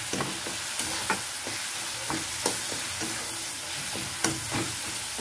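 Egg bhurji with chopped tomato, onion, garam masala and chilli powder sizzling in a pan, with a steady close fry hiss and repeated scraping of a spoon stirring, about one stir every half second.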